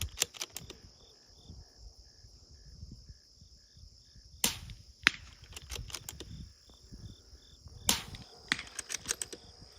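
Sharp cracks from a suppressed .22 rifle firing at a chain land as a few isolated shots outdoors, set against a steady insect chirr and low background rustling.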